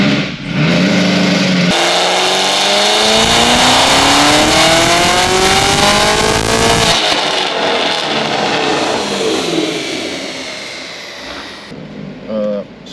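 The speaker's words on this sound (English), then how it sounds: "The valved Corsa, this thing is ridiculously loud, but it also gets very quiet" A Camaro ZL1 with a Magnuson 2650 supercharger and a valved Corsa exhaust revs hard, its engine note rising steadily in a loud, raspy climb before settling back, close and dominant, with brief voices near the start and end.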